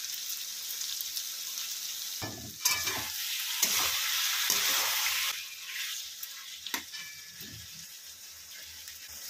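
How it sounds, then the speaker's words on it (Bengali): Tomato paste frying with spices in oil, a loud close sizzle that flares up as the paste goes in, with scattered stirring clicks, then settles into a quieter steady sizzle. "মশলা থেকে তেল ছাড়ছে, এই সময় আমি টমেটোর পেস্টটা দিয়ে দিলাম"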